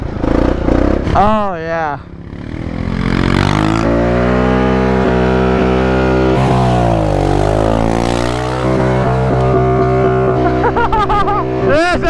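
Mini four-wheeler engine revving hard in fifth gear during drifting, a loud, close, sustained high-pitched whine rising and falling in pitch across the run, with brief shouts over it at the start and end.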